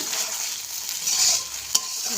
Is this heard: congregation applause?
no